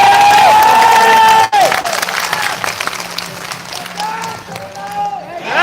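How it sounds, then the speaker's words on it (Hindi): Loud crowd applause and cheering at a religious gathering in Raipur honouring a Valmiki dharma guru, filling the whole stretch with dense clapping, with a brief dip midway and tonal voices or music over it. "जोरदार ताली"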